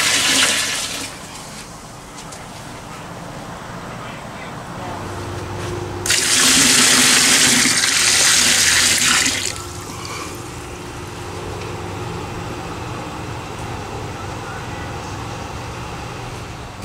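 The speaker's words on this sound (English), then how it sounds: "I decided I would take that frozen goat hide and put it in water so that it will help thaw it out" Water pours into a container to thaw a frozen goat hide. A soft, steady trickle swells into a loud gushing burst for a few seconds, then settles back to a quieter flow.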